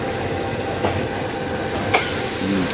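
A passenger train arrives at Charan Sanitwong station in Bangkok, with a continuous rumbling roll and a couple of sharp clacks over the rails. A faint wheel squeal rises near the end, heard close with no talking.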